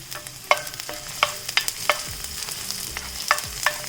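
Garlic frying in hot oil in a pan for pepper chicken while a spoon stirs it, a steady sizzle broken by repeated sharp scraping clicks at an uneven rhythm, close and alone.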